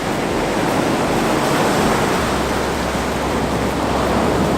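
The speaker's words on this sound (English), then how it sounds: "The challenge is these waves are coming in quite unpredictably." Ocean surf breaking on a beach near sunset, a loud, dense, unbroken wash of water close by with wind, no voices.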